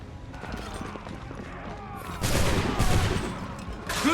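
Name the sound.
musket gunfire from soldiers in Assassin's Creed 3 video game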